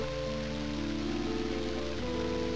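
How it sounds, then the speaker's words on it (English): Rain falls in the video game Mother 3, heard as a steady, even hiss of rainfall blended with a sustained tonal game soundtrack that shifts pitch near the end. "Now it started to rain. Let's hope this puts out the fire."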